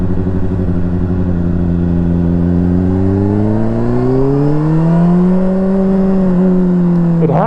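A 2011 Honda CBR600RR motorcycle engine runs loud and close in wet riding conditions, its tone rising slowly and steadily through the revs, dipping briefly, then climbing again.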